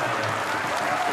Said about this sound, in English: Appreciating the cheers of the crowd.